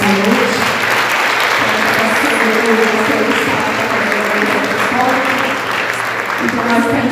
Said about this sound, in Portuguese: E as palmas logo ao Senhor nessa noite.